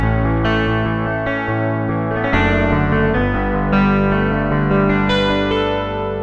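A bright, chorused electric piano patch from a 1985 Roland JX analog synth plays sustained chords and a melodic line, warm and shimmering with a slight vintage analog character, no voices.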